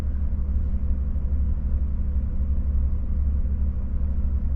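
A truck idling in road traffic, with a steady low engine rumble close by and no voices.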